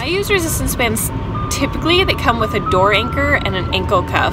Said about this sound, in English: Sorry for the noise in the background, there's an ice cream truck.